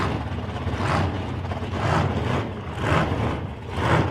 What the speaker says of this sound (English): Just a short burn out there for Bob Sherry and the little gangster.